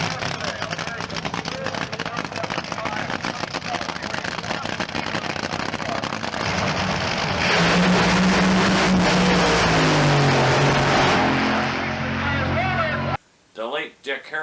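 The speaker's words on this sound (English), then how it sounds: "68 Dragway Park funny cars" Funny cars from 1968 race down the strip at Dragway Park, their engines a loud, continuous roar that swells and sweeps in pitch as a car passes close by, then cuts off abruptly near the end.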